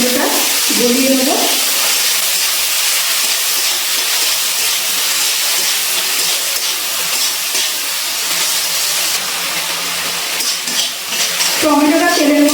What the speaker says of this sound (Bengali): এবার নাড়াচাড়া করে তেলের মধ্যে টমেটোটা গলিয়ে নেব